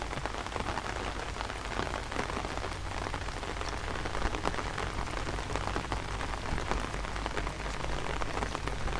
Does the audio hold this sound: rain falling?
yes